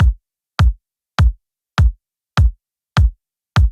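Main kick drum sample from a layered drum production, played alone: seven punchy, deep-bodied hits at an even tempo of roughly one every 0.6 seconds, each with a short click at the front and silence between.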